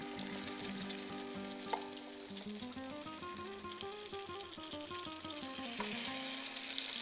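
Zucchini fritters frying in a pan four at a time give off a steady close sizzle and crackle with a faint underlying hum, continuous throughout with no voices.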